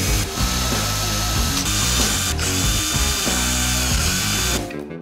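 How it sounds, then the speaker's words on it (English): A power drill bores holes into wood, its loud, close whir running steadily and shifting in pitch as the bit cuts, then cutting off just before the end. "Now that the holes are drilled"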